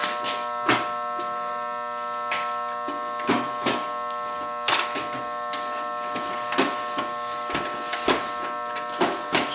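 A loud work light ballast gives off a steady electrical hum with bright tonal bands, broken by scattered clicks and clatter from nearby handling during work on a JVC MX-J10 stereo.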